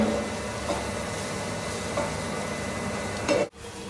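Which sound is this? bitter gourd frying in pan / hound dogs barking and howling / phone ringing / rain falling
bitter gourd frying in pan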